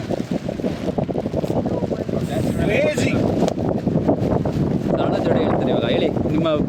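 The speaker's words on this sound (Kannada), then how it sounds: "ಅಲ್ಲಿ ಗಾಳಿ ಹೆಂಗಿತ್ತು ಅಂದರೆ ನಾವು ನಿಂತ್ಕೊಳಕ್ಕೆ ಹೋಗ್ತಾ ಇರಲಿಲ್ಲ" Strong wind at Abbey Falls roars and buffets the microphone in a steady, loud rush that runs the whole time, with people talking over it.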